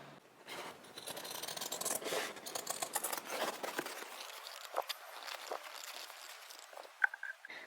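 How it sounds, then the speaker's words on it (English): Scissors snip and scrape through fabric as excess is trimmed into a circle around an embroidery hoop, a close, irregular series of crisp cuts and rustles, fading to a quieter scrape at the end. "Trim the fabric so that it is a circle going around the outside of the embroidery hoop"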